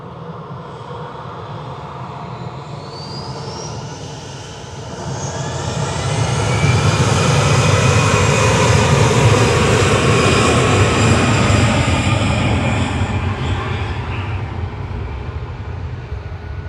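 A passenger jet, flight VS7, passes overhead at Manchester Airport, its engine roar swelling from a distant rumble to a loud, broad sustained wash before slowly easing off.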